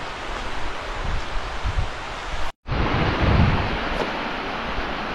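Steady broadband rush of mountain waterfalls cascading into pools, loud and continuous with a brief break midway, no voices.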